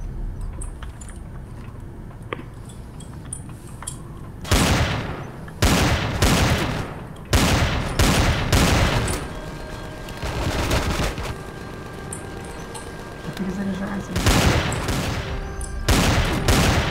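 Gunfire in the video game Empyrion Galactic Survival: quiet ambience first, then loud rapid bursts of shots in clusters, with short pauses between volleys.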